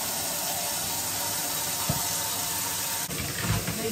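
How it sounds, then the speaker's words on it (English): Cold tap water pours steadily into a canner in a kitchen, a constant rushing hiss with a faint knock or clink near the end and no talking. "I'm gonna fill the canner with cold water because everything's cold out of the fridge"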